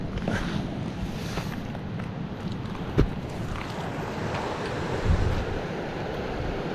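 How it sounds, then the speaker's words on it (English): A mountain creek rushes steadily in an autumn setting, with broad continuous water noise buffeted by some wind and a couple of soft thuds. No voices are heard. "Okay, here we are back at the creek."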